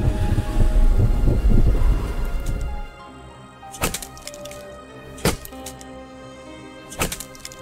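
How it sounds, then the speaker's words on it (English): Stormy nighttime weather in The Infected survival game: a loud, rumbling thunder roll fills the first few seconds, then fades into quieter rain ambience punctuated by three sharp, distinct cracks spaced a second or so apart. "It is very stormy at the moment."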